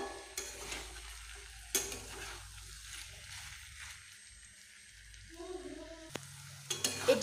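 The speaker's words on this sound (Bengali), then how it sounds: "এটিকে আরও একটু ভালোভাবে মশলার সঙ্গে সব সবজিগুলোকে কষিয়ে নিতে হবে।" Vegetables and boiled chickpeas being stirred and fried with spices in a pan: faint soft sizzling with occasional scraping stirs and clacks of a spoon against the pan, close and quiet, no speech.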